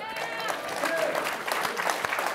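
Brief, moderately loud applause from the audience at a panel on AI and music copyright runs throughout, with voices mixed in among the clapping.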